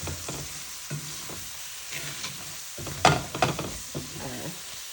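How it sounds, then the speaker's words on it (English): Two small pieces of garlic frying in a pot for a jerk chicken cream sauce, a steady close sizzle with a few brief scraping stirs and clinks and no talking. "I'm gonna drop 2 little pieces of garlic in there."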